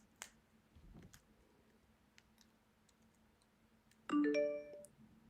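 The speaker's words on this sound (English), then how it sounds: "That is a low battery notification." A phone plays a short multi-tone chime as a low-battery notification, clear and brief after quiet ticks and clicks from 3x3 puzzle cube practice.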